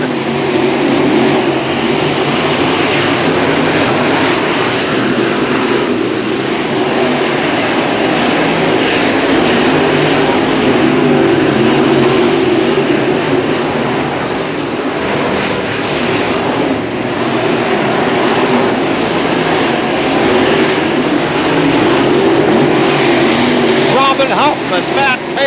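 Race cars lap Macon Speedway in a pack, a continuous loud roar of engines running for the whole stretch, steady and near, with an announcer calling the race over it.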